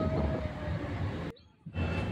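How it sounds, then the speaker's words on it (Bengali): A train pulls into Hajigarh station in Hooghly district, West Bengal, on a Dankuni to Bardhaman run, heard from on board as a loud, continuous low rumble that cuts out briefly, then resumes. "এখন আমাদের ট্রেন ঢুকছে হাজিগড় স্টেশনে।"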